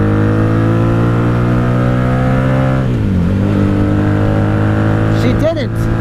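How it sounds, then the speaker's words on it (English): A 1997 Honda Magna VF750C motorcycle, a wreck rebuild that is running rough, revs loudly under a highway bridge at night. The close, droning engine dips mid-rev and then climbs again, with a brief voice near the end. "go under the bridge, you gotta rev it. Bridge revving."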